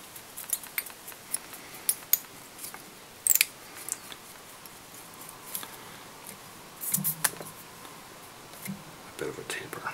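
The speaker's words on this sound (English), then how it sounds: "just take your scissors" Quiet, crisp snips of scissors trimming a fishing fly during tying, scattered irregularly among soft rustling and small handling noises, close by.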